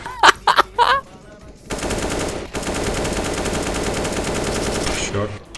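Rapid automatic fire from a video game rattles in a long, steady burst, preceded by a few sharp separate shots and a voice, then cut off abruptly near the end.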